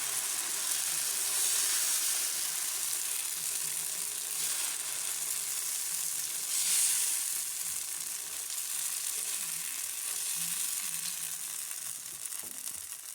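Wheat-flour dosa batter spread on a buttered hot pan, a continuous close hissing sizzle that stays even throughout, with occasional faint scraping and a gentle swell midway before easing slightly at the end.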